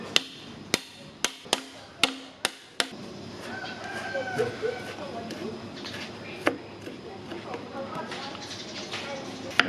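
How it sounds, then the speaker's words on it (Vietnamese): Ginger being smashed with a blade or cleaver on a board while preparing a Vietnamese beef brisket dish: a run of about six sharp, loud whacks in quick succession, followed by kitchen clatter and a rooster crowing in the background. "Mình sẽ đập ra một ít gừng này."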